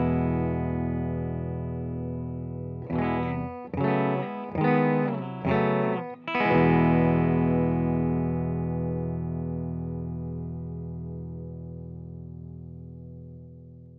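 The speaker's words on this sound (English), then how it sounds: "here it is, clean, playing through my PRS hollow body into the pedal directly with just the amp sim on the bridge pickup" PRS hollow body electric guitar on the bridge pickup, played clean straight into a pedal's amp sim: a sustained chord rings out, a quick rhythmic strummed flurry follows, then a final chord decays slowly, alone.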